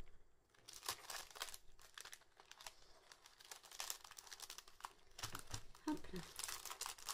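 Wrapping paper is crumpled and folded around a cardboard box, giving close, irregular crinkling and rustling bursts with occasional tearing, while someone speaks quietly.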